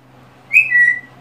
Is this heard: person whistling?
yes